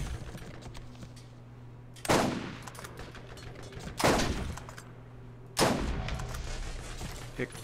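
A gun with only three shots fires in Borderlands: three sharp, loud reports spaced about two seconds apart, each trailing off over a steady background hum.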